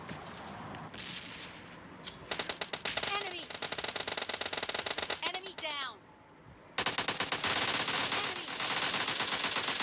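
Rapid automatic gunfire in the mobile battle-royale game PUBG Mobile Lite, including an M24 sniper rifle, rattling in dense bursts with short gaps between volleys under a steady game background.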